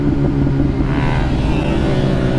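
Motorcycle engine at a bikers' meetup of about forty motorcycles in Bielefeld, a loud continuous rumbling growl with rising revs, close and steady throughout without speech.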